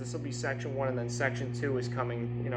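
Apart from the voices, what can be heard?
None of the usual background noises is heard.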